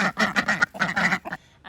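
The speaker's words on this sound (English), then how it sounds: "So females have the loud, happy duck quack that you can hear a mile of." A female Khaki Campbell duck gives a loud run of rapid quacks in two bursts, close and clear with no other sound around it.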